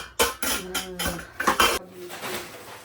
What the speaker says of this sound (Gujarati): એના વાસણી ઉટકી રહી છે અત્યારે તો